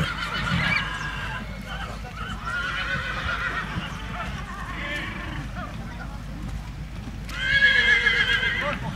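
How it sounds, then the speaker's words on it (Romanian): Horses at a horse fair in Bradu, Sibiu, whinny loudly several times, the last call longest, while hooves clip-clop and people murmur in the background. "Nu, cal, știi ce, zici că e iapă."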